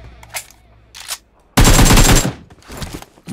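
Loud automatic gunfire in the PUBG Mobile video game, a dense sustained burst of rapid shots lasting under a second, framed by softer single bursts and in-game noise before and after.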